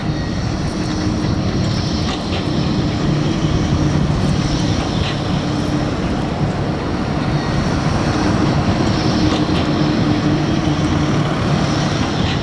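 An illuminated Blackpool tram rolls past, a steady loud mechanical rumble and hum with a faint whine, continuous throughout with no talk over it.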